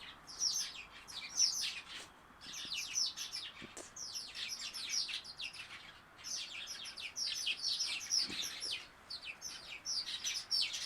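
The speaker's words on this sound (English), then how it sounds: "Birds are squawking up a storm." Birds chirp and squawk outdoors in repeated bright bursts of busy calls, moderately distant, with short pauses between flurries and no talking.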